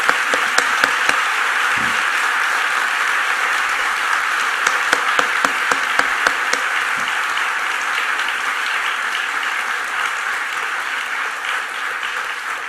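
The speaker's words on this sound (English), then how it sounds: "Please help to give a big round of applause to Jeffrey Sachs." Audience applause after a talk by Jeffrey Sachs at an innovation event: a steady, dense wash of many hands clapping that holds for the whole stretch, with no talking over it.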